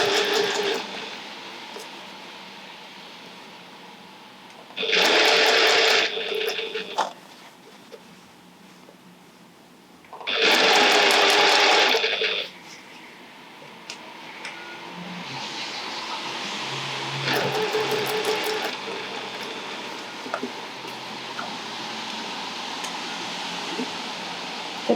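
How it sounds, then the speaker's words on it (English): A sewing machine stitches the gathered panel of a tote bag in two loud bursts of a couple of seconds each, with a quieter hum and handling noise in between and a brief softer run near the end. "So I'm going to start stitching, just stop, smooth that seam down, sew a little bit more, stop, check it, smooth it."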